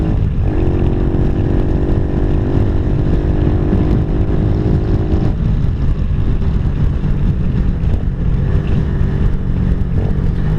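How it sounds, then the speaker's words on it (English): A Venom KP mini 150 motorcycle rides along an interstate, its small engine droning loudly and steadily with wind roar throughout, the pitch holding and shifting slightly partway through, no talking. "I think the bike's pretty much fully warmed up, so I think we'll be good."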